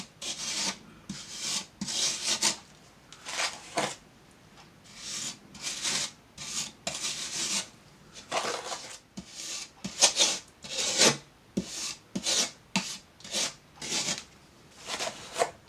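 Fresco plaster being pressed and spread with a trowel over a wall section, extending past the cut line of the day's working area; steady rasping, scraping strokes repeat in a rough rhythm, close and moderately loud, with no talk.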